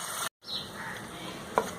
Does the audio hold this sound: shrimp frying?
yes